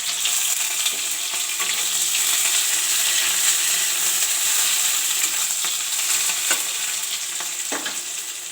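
Chopped onion sizzling loudly in hot oil in a frying pan, a dense, steady hiss close by with a few scattered pops and spatters throughout.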